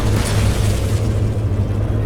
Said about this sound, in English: there's just explosion after explosion on the Paladin here.